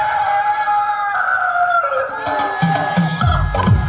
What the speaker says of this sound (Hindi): देख सकते हैं कितना बड़ा वो मुर्गा है, आवाज सुन सकते हैं सुनील जी